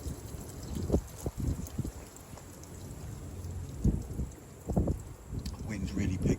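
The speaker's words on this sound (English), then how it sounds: "Wind's really picked up again now." Strong southwesterly wind gusts across a lakeside carp-fishing spot, a rough rumbling buffet against the microphone that swells and drops in irregular bursts.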